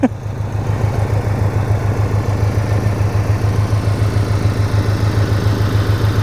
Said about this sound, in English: The only thing noisy out here is the car.